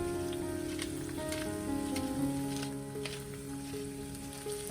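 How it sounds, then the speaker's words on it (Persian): Soft sizzling of vegetables with garlic, turmeric and black pepper frying in a pan for Persian yatimcheh, with faint clinks and a low background hum. "سرخ کردن سبزیجاتمون همین حد کافیه"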